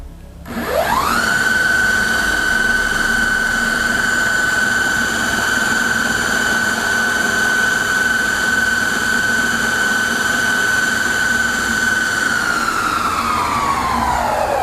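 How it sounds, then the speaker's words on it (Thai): Off-road Raldey Carbon AT V2 electric skateboard motor spinning up with a steep rising whine, holding a loud steady high-pitched tone for about eleven seconds, then winding down at the end. "เดี๋ยวเรามาลองฟังเสียงกันหน่อยนะค ะ ว่าเสียงของเจ้าลอดี้จะเป็นยังไงบ้างนะคะ"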